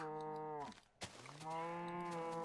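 A blocky Minecraft cow in an FTB Insanity Skyblock modpack world gives two clear, close lowing moos separated by a short gap, with no talking over them.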